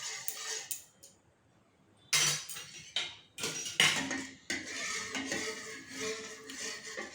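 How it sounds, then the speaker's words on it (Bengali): Yogurt being whisked in a bowl to smooth out lumps, heard as bursts of quick clinking and tapping of a utensil against the bowl, with pauses between spells of beating. "এইটা দিয়ে ভালো করে ফেটে নেব, যাতে না দইগুলো ডালা পাকিয়ে থাকে"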